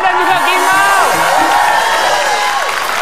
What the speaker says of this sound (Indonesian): Kita tepuk tangan dulu dong buat Ke Omas, Vega, dan juga Kimau.